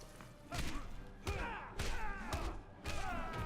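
Punch hits landing in a fight in the video game Injustice: Gods Among Us, a series of heavy thuds and whooshing impacts at short intervals, mixed with grunts and game effects.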